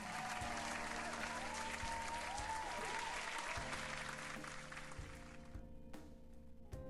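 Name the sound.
cheering and applause effect on a stream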